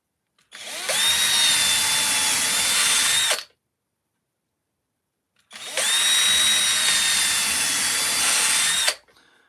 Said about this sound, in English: I'm going to have to drill those out with this one